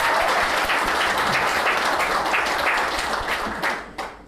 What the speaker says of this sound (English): let's give a round of applause for how incredible the bride and groom look tonight